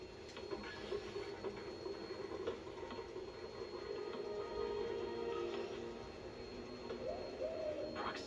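A pigeon coos in the Spider-Man PS4 video game, a soft, low, rolling call set in a quiet city ambience, faint and steady with a brief higher murmur near the end.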